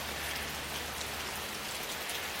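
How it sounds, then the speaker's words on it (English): Soft rain patters steadily onto a lake at a campsite, an even, close hiss of countless drops with no talking. "that soft rain out there, it's just a pitter pattering on that lake"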